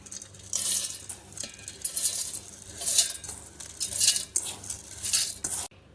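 Soaked rice, urad dal and fenugreek seeds are tipped into a mixer grinder jar, making close, scattered clinks and rattles with a soft shuffling of wet grains over several seconds and no talking.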